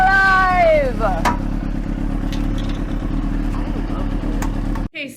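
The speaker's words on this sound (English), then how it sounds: "the next thing we're gonna do is we're gonna turn on the bike" A motorcycle being started: a starter whine sweeps down into a loud, steady idling rumble with some clatter, close by, then cuts off abruptly near the end.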